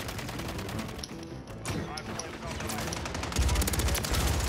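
Sustained automatic fire from a RAM-9 rifle in Call of Duty MW3 rattles steadily and loudly, with dense rapid shots throughout and a heavier burst near the end, with a player talking underneath.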